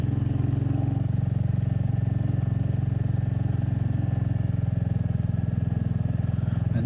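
Hunter motorcycles ride along a road with a steady, close engine drone and constant wind rush that hold level throughout, with no pauses or clear revving.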